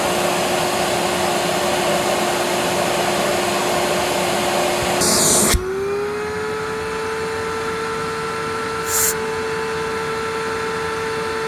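A Proteam Tailvac DT 100 vacuum running steadily with a hose adapter fitted for an airflow measurement, a loud constant whine and rushing air, then a brief bump after which the motor tone rises and settles.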